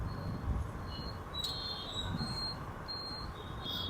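Metro train at PCMC Morwadi metro station, heard as a steady low rumble with thin high-pitched wheel or brake squeals drifting in and out over the continuous noise.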